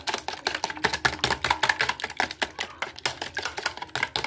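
Egg and syrup are whisked in a bowl in a fast, steady rhythm of close, sharp clinks and scrapes that carry on without a break and with no voices.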